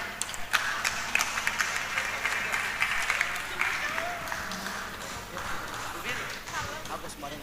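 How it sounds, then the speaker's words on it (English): Seminar audience applauding, a moderate wash of clapping with scattered distinct claps, mixed with voices and room noise at middling distance. "Let us all give a round of applause to honor their invaluable contribution"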